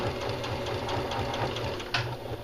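Sewing machine stitching a pajama pant crotch seam, a close, steady rapid needle chatter running without a break.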